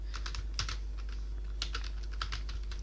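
Fingers type on a computer keyboard while working in Excel, producing quick irregular clusters of light clicks over a constant low electrical hum.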